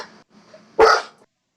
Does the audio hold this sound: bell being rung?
no